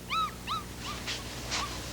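A puppy whimpering close by, two clear high whines followed by softer, fainter whimpers and yips over a quiet background hum.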